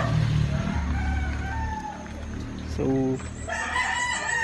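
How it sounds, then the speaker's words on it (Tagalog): A golden rooster at a pigeon loft visit crows partway through, its call rising over steady background noise and a brief spoken word. "Ito, ano yung manok, sobrang ganda."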